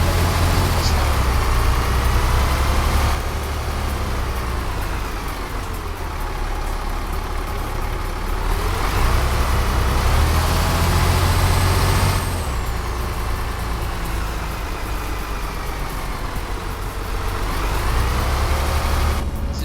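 Simulated bus engine in the OMSI 2 driving game on the Roemerberg map: a continuous low droning rumble that swells and eases as the bus drives, steady and loud throughout.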